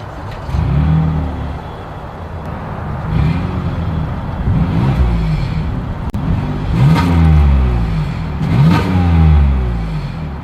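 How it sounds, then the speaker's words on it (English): A 2022 Toyota Highlander SUV's exhaust rumbles loudly and close by, rising and falling through several revs with a deep, throaty growl. "here is that exhaust clip"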